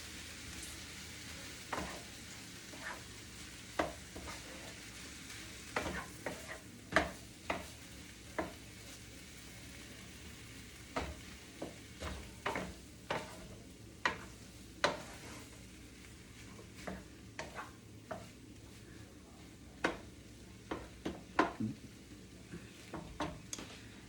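Ground beef broken up and stirred as it fries in a pan, a low steady sizzle punctuated by repeated scraping and clacking spatula strokes at an irregular pace, with no voices.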